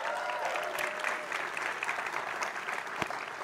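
An audience at an SMPTE event applauding and cheering for Target 3D, a steady wash of clapping heard from the crowd at moderate level, with scattered whoops rising through it.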